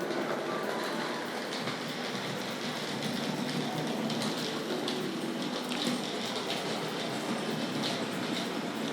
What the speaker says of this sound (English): And we'll just set off the Dublo train as well.